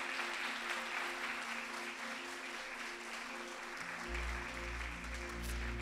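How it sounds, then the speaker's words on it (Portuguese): Church congregation applauding during a Portuguese-language worship service, a steady wash of many hands clapping throughout, with a low sustained music tone swelling beneath toward the end. "O Senhor, pode aplaudir que é para o Senhor."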